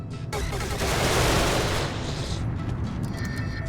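Machine gun turret in the game Genesis Alpha One firing a dense, loud rapid burst that swells and then tapers off, followed by scattered clicks.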